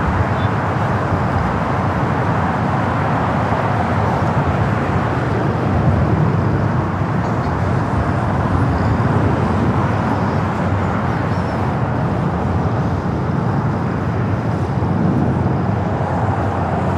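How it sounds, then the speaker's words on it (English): Boeing 777-200ER airliner on a flight to Vienna, heard at LAX as a steady, loud broadband jet roar that holds evenly throughout with no voices. "Flight 52 heading back to Vienna on this 777 at 200 ER."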